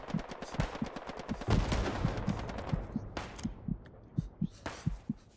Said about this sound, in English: Be advised, King, that is enemy artillery firing.